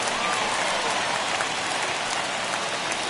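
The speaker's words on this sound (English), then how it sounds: "listen to this crowd now. They are really into this." Steady roar of a ballpark crowd cheering during a late rally in MLB The Show 21, a dense, continuous wash of noise holding at an even level throughout.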